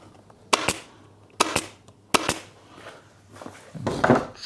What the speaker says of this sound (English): starting staple at the centre and then working my way